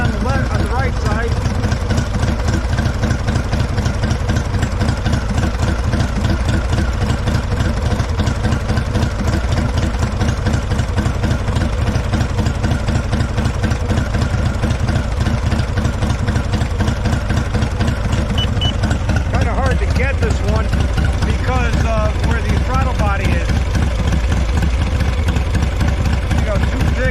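A Harley-Davidson Softail fitted with Love Jugs idles up to temperature. Its loud, close engine keeps an even rhythmic throb throughout, and a voice speaks over it near the end.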